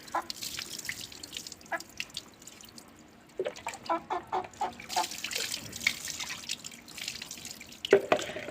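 Chickens being bathed: water splashing and dripping in uneven bursts, with a rooster's brief calls breaking through near the end.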